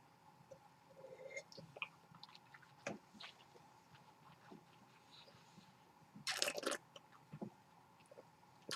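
Someone eats a Ritz cracker during a wine tasting, with quiet close-up bites, small crunches and soft wet chewing sounds, plus a louder crunchy burst partway through.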